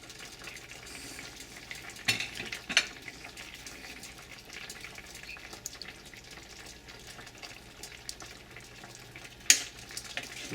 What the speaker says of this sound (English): Although that's boiling a little too fast